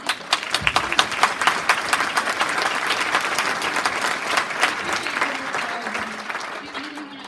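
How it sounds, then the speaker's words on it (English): Applause from a town hall audience at AB Tech for the federal employees in the room, a dense sustained wash of many hands clapping for several seconds at moderate loudness, tapering slightly toward the end with faint voices beneath. "Let's give everyone a round of applause"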